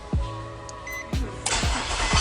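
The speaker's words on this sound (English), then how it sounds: "The vehicle fired up just fine." A Nissan SUV engine cranking and starting via remote start, with several sharp clicks and a starter thump, then a steady rising idle hum, moderately distant.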